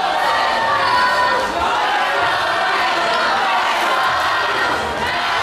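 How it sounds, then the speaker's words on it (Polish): Large crowd at a university faculty battle event in Olsztyn roaring and cheering, a dense continuous wall of voices with shouts, loud and sustained throughout. "Wielkie brawa dla nich."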